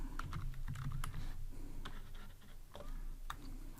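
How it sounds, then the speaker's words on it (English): Fingers tap out text on a computer keyboard in a quick, irregular run of close, crisp key clicks over a low steady room hum, with no voices. "So I'm going to type here"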